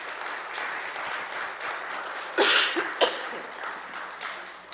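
A church congregation applauds after a meditation song, a sustained patter of hand claps with a few louder bursts and a cough or two, heard alone in a reverberant room.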